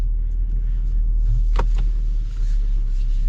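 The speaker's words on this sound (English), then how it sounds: "And now let's set off in the Infiniti" Low steady road rumble inside a 2024 Infiniti QX60 luxury SUV as it sets off and drives, a muffled cabin drone with one brief knock midway, no talking.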